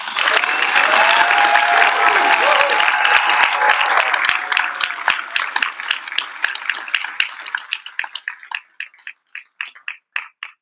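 A Cincinnati mayoral debate audience gives a round of applause, loud and dense at first, then thinning over several seconds into scattered individual claps that fade out.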